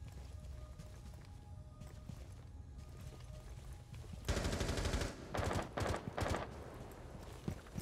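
Rapid automatic gunfire in Rainbow Six Siege crackles in several sharp bursts after a quieter stretch of game ambience, loud and close, with no talk over it.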